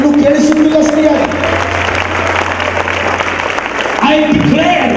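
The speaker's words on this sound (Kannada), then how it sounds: "I can't hear you clapping." Congregation clapping steadily at a church prayer service, dense sustained applause from a large crowd under a preacher's loud amplified voice.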